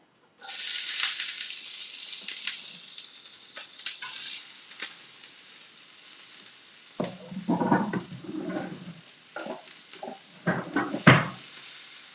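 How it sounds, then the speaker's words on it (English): Omelette ingredients with harissa sautéing in a pan: a bright steady sizzle for several seconds, then softer frying under intermittent clatter and stirring knocks from utensils. "Just making sure they're getting a bit sauteed"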